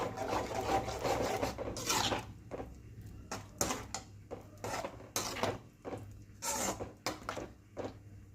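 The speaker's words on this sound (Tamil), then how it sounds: "எல்லாத்தையும் நல்லா ஒரு மிக்ஸ் பண்ணி விட்டுட்டு கலந்து விட்டுக்கலாம்" A spoon stirs horse gram curry with added water in a pot, giving a series of scraping, rasping strokes in an irregular rhythm, close and fairly quiet with no voices.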